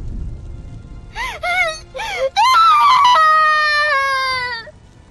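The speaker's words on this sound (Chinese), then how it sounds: "刺耳的尖叫声从小舞口中发了出来" A girl's piercing, wavering scream rises and falls in several sharp bursts, then holds as one long high wail that fades at the end, close and loud, acted as a dramatic moment in a Chinese fantasy audiobook.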